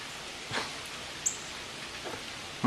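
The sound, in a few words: rain during Hurricane Irene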